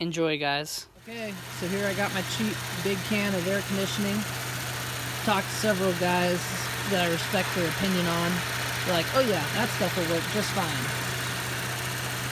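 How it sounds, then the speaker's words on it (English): A Ford Edge engine idles steadily as a low, constant hum, with someone talking over it almost the whole time. "Pardon the noise, I got the car running because that's part of the procedure here."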